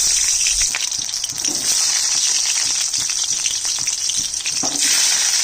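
Onion frying in two spoons of oil in a pan, a loud, bright, continuous sizzle with faint stirring scrapes running the whole time, no speech.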